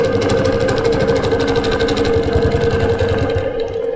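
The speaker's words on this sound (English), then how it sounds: "we're going to stitch down" A longarm custom quilting machine stitches straight lines on a quilt, its needle hammering in a fast, even mechanical rhythm over a steady motor hum, close and loud, easing slightly at the end.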